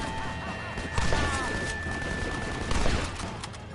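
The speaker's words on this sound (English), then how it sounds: "What if I use a rolling block rifle?" Gunfire with a couple of heavier shot impacts during a Red Dead Redemption shootout, rolling block rifle in use, mid-loud over a busy game soundscape with a voice speaking at times.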